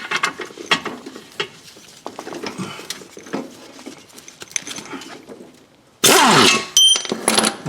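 Ratchet working a control arm bolt loose on a 2011 Toyota Sienna, close mechanical clicks and clatter in an uneven rhythm, ending with a loud burst of rapid ratcheting.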